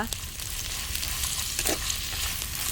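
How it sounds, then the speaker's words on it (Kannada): Onion cut into long strips frying in oil, giving a close, even crackling sizzle with a couple of faint stirring sounds and no talking. "ಈರುಳ್ಳಿ ಕೂಡ ಸ್ವಲ್ಪ ಫ್ರೈ ಮಾಡುವ"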